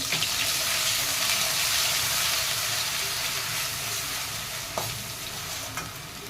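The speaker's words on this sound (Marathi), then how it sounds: "थोडासा हिंग आणि आपण तयार केलेला मसाला यामध्ये घालून छान परतून घेऊ" A spice masala with mustard seeds and asafoetida sautéed in a pan for masala brinjal, a loud steady frying sizzle throughout with a couple of brief spatula scrapes near the end.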